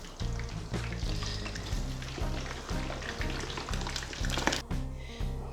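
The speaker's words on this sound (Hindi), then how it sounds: "सिर्फ 2 से 3 मिनट तक फ्राई करना है" Beef pieces fry in a pan with a continuous crackling sizzle, close and steady throughout, with no voices present.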